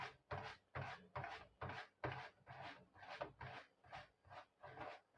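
A stinging catfish is scrubbed by hand in rhythmic strokes, about ten soft, rasping rubs in a steady back-and-forth pattern, faint and close with no talk.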